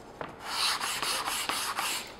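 Steady back-and-forth rasping of an 80-grit sanding stick on foam, repeated strokes in an even rhythm, close and moderately loud with no talking.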